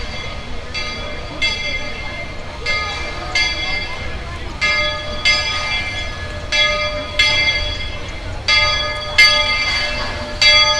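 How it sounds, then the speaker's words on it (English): A Magic Kingdom park train rolls into a tunnel with a series of ringing bell-like clangs repeating roughly every second over a steady rumble, fairly loud and close. "So you can see the train go into the tunnel right there."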